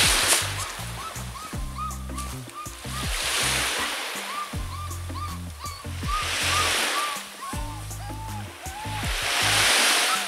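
Rushing water at a riverside fishing spot: a steady, broad roar of flowing water swells and eases, with low rumbling beneath it.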